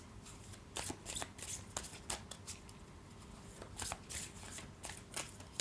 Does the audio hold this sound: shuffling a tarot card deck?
yes